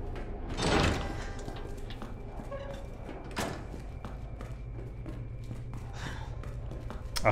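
A door opens in the Resident Evil 2 Remake video game with a soft thud early on and another brief knock a few seconds later, over quiet game ambience.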